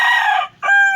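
A gamecock rooster crows loudly and close by, one full call broken by a short gap before the final drawn-out note, with no other sound around it.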